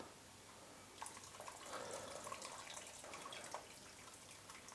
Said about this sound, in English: carefully drain the water away